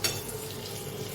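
Boiled potatoes frying in a pan with a little salt and turmeric, a soft continuous sizzle with a faint stirring scrape at the start.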